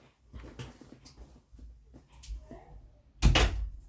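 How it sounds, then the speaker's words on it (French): Indoor door closing: soft handling and creaks, then a single loud thump as the door shuts near the end, with faint breathing and a quiet voice earlier. "Alors, attendez, je vais fermer la porte."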